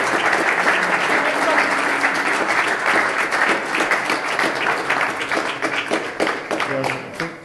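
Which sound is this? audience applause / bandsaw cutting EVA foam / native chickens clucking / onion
audience applause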